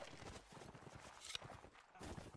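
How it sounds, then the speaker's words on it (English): Horses run around a field in a video game, their hooves making a quick, irregular clip-clop that sounds fairly soft and slightly distant, with a faint hint of background voice. "There's some horses, just... running around"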